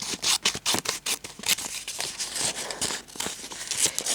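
Scissors cut through a piece of fabric for an embroidered box, giving a close, steady series of crisp snipping strokes with faint crinkling between them.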